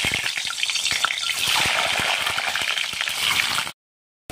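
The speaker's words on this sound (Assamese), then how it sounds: "কেৰাহীত ৰিফাইন তেল দি দিছোঁ আৰু তেলত এতিয়া কণীকেইটা ভাজি দিম।" Eggs fry in refined oil in a wok as part of a potato and egg fry, giving a loud, steady, close sizzle with crackling pops that cuts off abruptly near the end.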